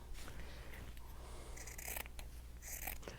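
Scissors trim cloth for a handmade book cover, a few quiet, close snips and slicing rasps in quick succession, with faint scratchy handling noise between cuts.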